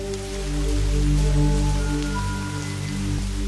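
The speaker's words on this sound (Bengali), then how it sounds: "ঝমঝম করে শুরু হলো মুষলধারে বৃষ্টি" Heavy downpour sound effect in a Bengali ghost audio story set at a haunted railyard, loud and steady rain hiss layered over a continuous tonal drone.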